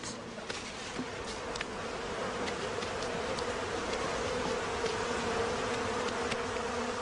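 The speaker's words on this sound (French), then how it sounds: "Au début, les abeilles n'opposent aucune résistance quand, sans ménagement, les pompiers entreprennent de les transvaser dans une boîte." A bee swarm being emptied into a box by firefighters gives a dense, continuous buzzing drone, steady and close, with scattered faint ticks and knocks over the humming mass and no voices.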